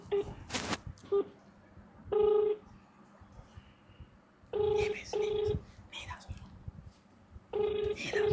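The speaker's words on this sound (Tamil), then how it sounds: "நம்ம வந்து திவ்யாவோட தங்கச்சிக்கு தான் கால் பண்ண போகிறோம்." A phone dialing out to call a younger sister, with several bursts of dial tones, some short and some held, separated by gaps and quiet background sounds.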